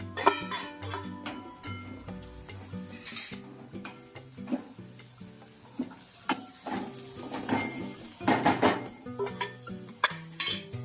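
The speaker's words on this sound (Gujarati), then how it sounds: "તો આપણા લસણ અને મરચાં સતરાઈ ગયા છે અને આપણે એમાં આ ડુંગળી એક સમારેલી એડ કરી દઈશું" Chopped onion going into a pan with sautéed garlic and chillies and being stirred, producing close metallic clatter and scraping from the spatula, with a few sharp clinks and faint sizzle underneath, no talking.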